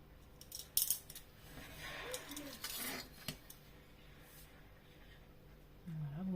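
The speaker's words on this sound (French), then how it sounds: "Allez, c'est parti, on coupe." Scissors snip through paper and card for a scrapbook album, several close, crisp cuts in short irregular bursts, with soft handling noises between them.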